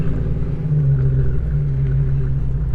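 A car idles low and rumbling while it backs up slowly beside a worn, broken upper ball joint, a steady close engine drone with a faint pulsing throb and no voices.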